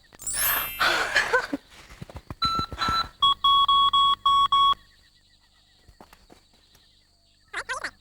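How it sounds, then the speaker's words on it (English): A magic fairy phone in a cartoon appears with a bright sparkling shimmer, then rings in a series of short, evenly spaced electronic trills before falling quiet, followed by a brief closing sparkle. "Okay, I'll call Phoebe now."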